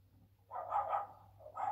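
Pet dogs barking indoors, a short cluster of two or three quick mid-pitched barks followed by another bark, close and fairly clear, with no talking.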